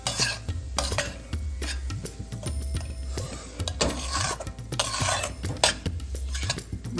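A spoon stirs and scrapes through flour mixed with grated coconut and sesame seeds in a pan for gol papdi, producing repeated close scraping strokes and light metallic knocks against the pan, with no talking.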